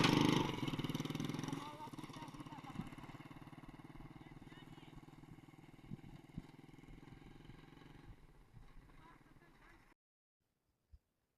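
A motorcycle engine runs close by with a steady, buzzing mechanical drone and occasional clatter, slowly easing in loudness before cutting off into near silence, followed by one brief knock.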